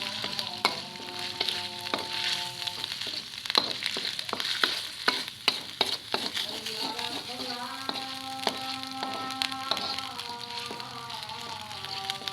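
Sate Padang ingredients sizzle steadily in a hot pan while a utensil stirs and scrapes, with sharp clinks against the pan and a continuous crackling hiss.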